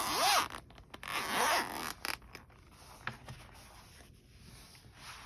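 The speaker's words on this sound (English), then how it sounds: "And then it zips open." A zipper runs open on a fabric crochet hook set case with a flower print, two quick loud zipping strokes up close, followed by soft handling rustles and scrapes.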